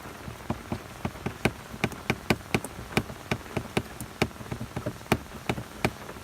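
Rain pattering on a surface overnight in Orlando during Hurricane Irma, sharp irregular drops tapping close by over a soft steady wash, no voices.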